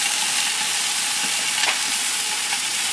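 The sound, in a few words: soy sauce sizzling on a Blackstone griddle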